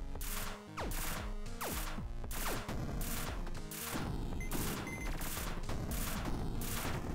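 Rapid gunfire and crashing impacts in the Rush Rover video game, repeated bursts and sharp shots over a busy layer of game sound, loud and continuous throughout.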